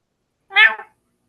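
A single short cat meow, close and clear, against complete silence.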